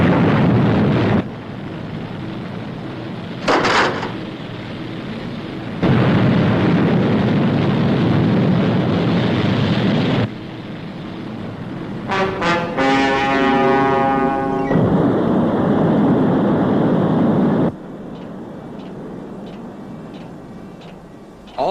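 Rocket ignition and launch roar for the Fireball XL5 spacecraft, a broad sustained rumbling roar that swells and cuts in stages, with a rising whistling tone partway through and a quieter steady rush toward the end.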